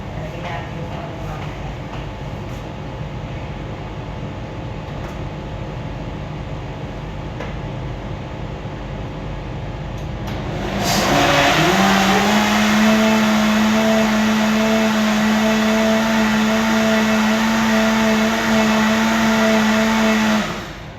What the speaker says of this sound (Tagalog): So, i-blender ko na siya,